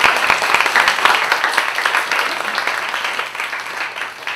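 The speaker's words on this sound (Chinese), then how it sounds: "热烈的掌声，谢谢今天两位。" An audience at an evening talk event applauds warmly, a dense, steady wash of many hands clapping at once, loud and continuous, tapering slightly toward the end.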